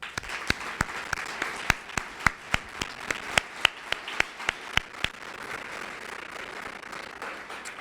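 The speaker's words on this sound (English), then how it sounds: "one more round of applause to all of employees at HUD" Audience applauds employees at a HUD agency event, a sustained wash of many hands clapping with a string of sharp, louder individual claps standing out in a regular rhythm, fading slightly toward the end.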